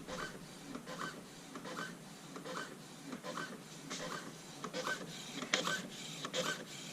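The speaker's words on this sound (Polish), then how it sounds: "przepchnę przez tą głowicę i no, uruchomię tą drukarkę" A Dell V515 inkjet printer runs after its print head has been cleared, giving a steady near mechanical whir broken by regular clicking, shuttling bursts roughly every second, with no voices.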